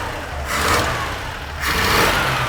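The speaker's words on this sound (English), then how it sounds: "Give it a rev." A Dodge truck engine, an inexpensive older pickup with a choke still warming up, revs twice in quick bursts between idle stretches, close and fairly loud.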